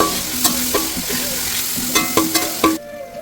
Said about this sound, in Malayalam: അങ്ങനെ ഉള്ളി നല്ലോണം വാടുന്നത് വരെ ഇങ്ങനെ ഇളക്കി കൊടുത്തുകൊണ്ടേ ഇരിക്കണം കേട്ടോ